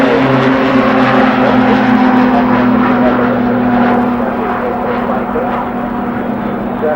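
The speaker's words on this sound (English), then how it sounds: "Brand Smith, well-known General Dynamics pilot, and this is a Block 40 aircraft" A General Dynamics Block 40 jet built by Turkish Aerospace Industries at the 1992 Farnborough Air Show gives off a steady, loud engine roar with a sustained whine. The sound is continuous and fairly close for several seconds.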